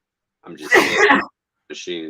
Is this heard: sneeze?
yes